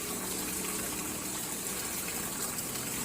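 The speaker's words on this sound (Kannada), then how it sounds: "ಆ ಕಲ್ಲು ಒಳಗಿಂದನೂ ನೀರು ಬರ್ತೈತಿ ನೋಡ್ರಿ" Water gushes steadily out from inside a round stone-built wall at the Ramatirtha temple in Belagavi, a continuous broadband rushing flow that stays even and close throughout.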